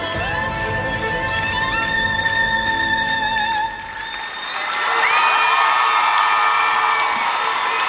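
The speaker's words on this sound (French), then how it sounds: "Les supporters français donc applaudissent Simon" French supporters applauding in an arena at a European figure skating championship, a broad steady wash of clapping and crowd noise mixed with music that drops briefly, then swells louder.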